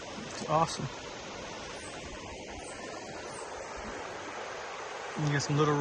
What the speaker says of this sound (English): You get some little rapids right there, making just enough river noise.